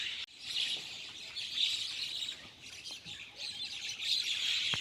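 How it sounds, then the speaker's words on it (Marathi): Birds chirp and tweet on a foggy early morning outdoors, a busy chorus of high calls at moderate distance, steady with small swells and no voices. "त्यावेळी मी बघत होतो तेव्हा पक्षी लय आरडतात."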